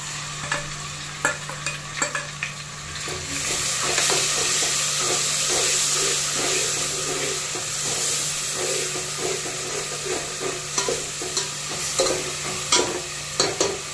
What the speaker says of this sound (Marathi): कांदा मस्त परतून घ्यायचा.